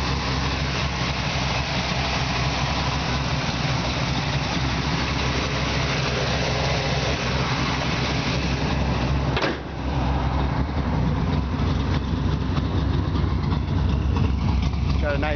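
A 1960 Chevrolet Bel Air engine with long tube headers idles with a lumpy, uneven loping rumble from an aggressive cam, steady and loud throughout with one brief dip.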